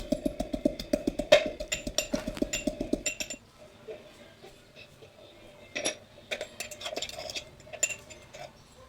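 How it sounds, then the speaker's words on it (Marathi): Ginger and garlic pounded in a stone mortar and pestle, a steady run of quick rhythmic thuds for about three seconds, followed by softer scattered knocks and scraping, close by and with no talking. "अद्रक, लसूण ते खलबत्त्यामध्ये बारीक करून घेऊया"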